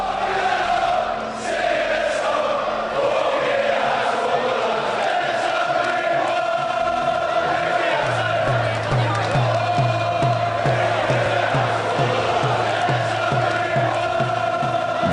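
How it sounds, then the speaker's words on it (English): Arena crowd at the Floyd Mayweather versus Ricky Hatton boxing fight, a loud continuous roar of cheering and shouting filling the space, with a rhythmic low chant pulsing through the second half. "The crowd was almost entirely pro-Hatton."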